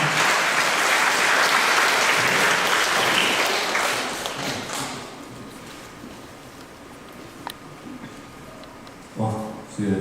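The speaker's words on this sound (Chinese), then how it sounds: "掌声一下" Audience applause at a full-band album live show in Tainan, loud and sustained for about five seconds before tapering off into a quiet room, with brief speech near the end.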